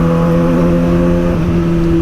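A motor vehicle engine revs steadily and loudly, its tone holding for a couple of seconds before dropping slightly in pitch near the end, with no voices over it.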